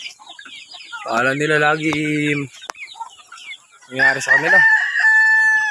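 Chickens crow and cluck loudly nearby, with a long harmonic crow followed by another burst of calls, while a person speaks briefly.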